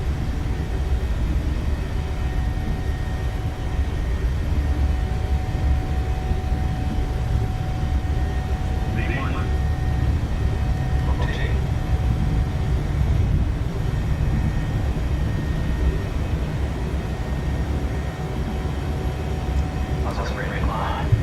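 Boeing 737-800 engines at takeoff thrust in a PMDG flight simulator give a loud, steady, broadband roar that holds for the whole stretch. Faint brief tones and clicks sit on top of it.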